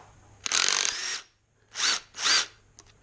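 A power tool with a socket undoes the oil pump bolts on a Jaguar MKII engine: one longer whirring burst, then two short quick ones, close and clear in a quiet shop.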